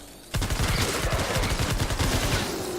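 Rapid automatic gunfire from the video game Fortnite Save the World bursts in suddenly and rattles continuously for over two seconds, loud and dense with no talk over it.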